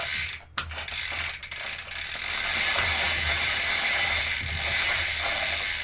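Bike cranks of a SRAM X01 drivetrain turned backward through a chain cleaning tool, a loud continuous ratcheting whir with hissing liquid, after a few short broken clicks at the start.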